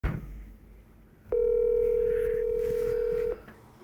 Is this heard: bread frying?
no